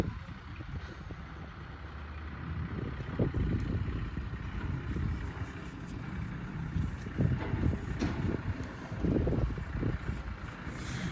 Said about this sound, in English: there's a tractor, so I'm going to speak a little bit louder and hopefully you can hear over me